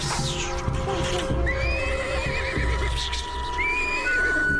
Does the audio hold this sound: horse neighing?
yes